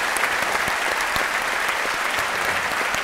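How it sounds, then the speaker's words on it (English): After a talk on science and reason, an audience gives the guests a loud round of applause, a thick, continuous wash of clapping from a sizeable crowd that holds steady throughout. "Let's please have a big rousing round of applause for our guests"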